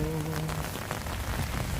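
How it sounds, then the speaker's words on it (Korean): Rain pours down in a steady, even hiss of drops hitting surfaces, with wind blowing through it and no voices. "비도 오고 바람도 불고 그러는데"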